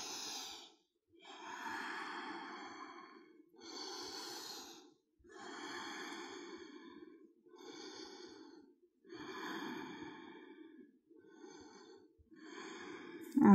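Slow, deep breaths during a yoga forward fold, about six long breathing cycles in steady rhythm, each a broad airy rush with short pauses between, close and moderately loud with no talking.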